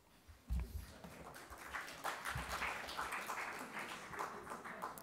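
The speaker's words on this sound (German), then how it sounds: "Verhaltener Beifall." Subdued applause from a conference audience at a panel event on peace and global justice, a modest scattered clapping that swells briefly then continues steadily at moderate level.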